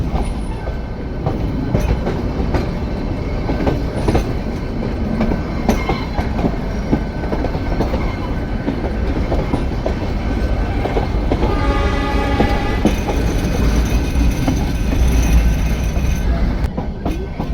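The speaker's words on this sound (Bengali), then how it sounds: "ট্রেনটা স্লো হয়ে গেছে।" The Ooty toy train running from Udagamandalam to Mettupalayam makes a loud, continuous rumble and clatter of wheels on rails as it slows. A high squeal or horn-like tone rises over the noise near the end.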